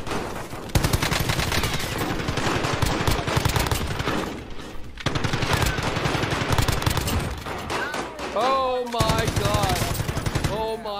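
Sustained bursts of light machine gun fire in the video game Warzone, loud and rapid, rattling almost continuously with brief pauses, mixed with game effects and occasional tonal sounds near the end.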